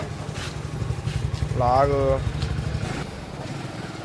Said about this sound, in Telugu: మనోడైతే ఇప్పుడు బైక్ తీసినాడు గాయస్.